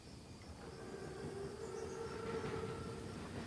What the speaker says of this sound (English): Train's right on time. Biggest train I've ever seen.